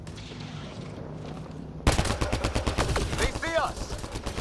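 Sci-fi gunfire in Mass Effect: Andromeda erupts abruptly into rapid automatic bursts at close range, with a whistling energy effect, while a voice shouts over the shooting.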